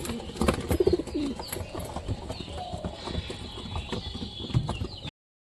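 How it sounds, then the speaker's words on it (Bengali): Pigeons coo and call in their loft while feeding, with scuffling and rustling movement mixed in. The sound is a soft, continuous, busy murmur at close range. "দেখো সুলতান সব কবুতর ডাকাডাকি করতেছে"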